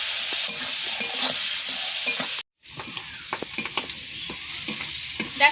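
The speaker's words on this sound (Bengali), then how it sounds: "দিয়ে এবার ভালো করে নেড়ে নেব" Shrimp seasoned with salt and turmeric frying in a pan while being stirred, a continuous bright sizzle punctuated by scraping spatula strokes, with a brief dropout midway.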